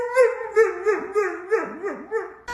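A dog howls and yips in a series of short, pitched, wavering cries close by, each rising and falling, with brief gaps between them and no talking.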